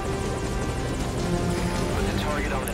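Helicopter in Metal Gear Solid V: Ground Zeroes, a steady loud rotor drone and engine whine filling the whole clip, with speech over it.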